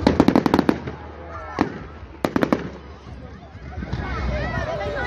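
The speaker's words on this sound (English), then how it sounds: "you've been to a fireworks display before" Fireworks burst at an outdoor display, with several quick crackling bangs in clusters separated by short pauses. People chatter and call out around them, and a low background hubbub rises toward the end.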